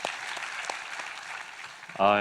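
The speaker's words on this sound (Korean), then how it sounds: "우리 하나님께 감사와 영광의 박수를 드리겠습니다" A church congregation applauds during a worship service, dense clapping lasting about two seconds before a voice begins speaking at the end.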